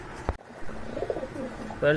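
Pigeons in a collection of mixed breeds coo nearby in low, rolling calls, with a sharp knock early on and a person talking over them.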